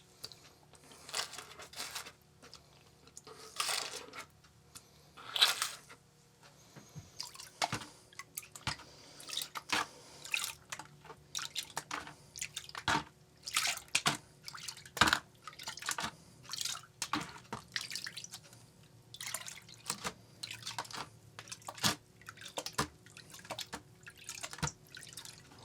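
Water is worked into gold paydirt in a small container, giving a long run of close wet drips, crunches and gritty clicks in irregular bursts, with quiet stretches between.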